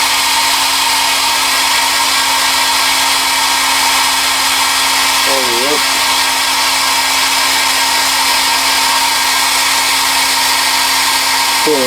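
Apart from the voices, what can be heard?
hair dryer blowing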